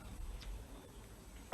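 A single short, sharp cough bursts out at the very end after a quiet stretch of faint background hiss, during a government COVID-19 briefing.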